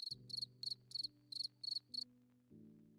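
Crickets chirp in quick pulsed bursts, about seven trills in a row, over a low steady hum that shifts pitch.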